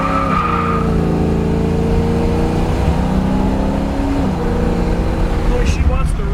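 A 1968 Chevrolet Camaro accelerates hard in a loud, close engine roar, its pitch climbing steadily and dipping briefly at a gear change, with some talk over the engine.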